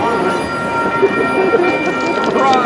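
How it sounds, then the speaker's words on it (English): Union Pacific Big Boy 4014 steam locomotive and its train roll past close by with a loud, continuous rumbling rush and rattle, and voices are faintly present underneath. "Once the train got by us"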